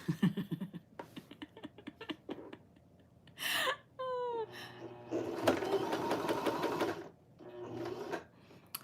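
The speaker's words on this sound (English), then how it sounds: "So I'm just gonna quickly see if I can sew the end" A Janome sewing machine stitching the end of a piece of fabric: short bursts of close motor whir and rapid needle chatter, the longest run near the end, with quiet handling noises between.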